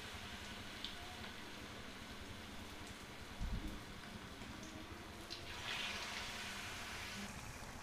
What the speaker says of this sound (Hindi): गोल्डन ब्राउन होने तक इनको अच्छे से फ्राई कर लेते हैं